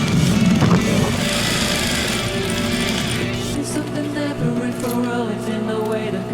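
A home sewing machine top-stitching the waistband of a serged, gathered skirt, its motor whirring steadily with a continuous humming buzz that settles into a lower, even drone.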